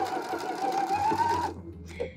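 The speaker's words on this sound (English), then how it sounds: "now all we need to do is start sewing." A sewing machine fitted with a rolled hem foot runs in a steady, close whirring burst for about a second and a half, then stops, with brief speech nearby.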